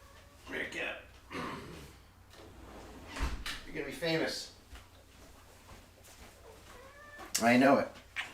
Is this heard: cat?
yes